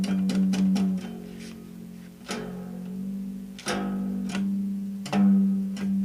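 Single strings plucked on an old Capitol parlor guitar during restringing, several sharp twangs ringing out one after another, some sounding an octave apart, heard alone and close.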